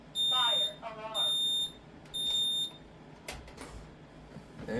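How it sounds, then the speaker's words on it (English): A Honeywell Vista 20p security system sounds its fire alarm as three loud, steady electronic tones, each lasting about half a second, followed by quieter room noise and faint rustling. "Fire alarm."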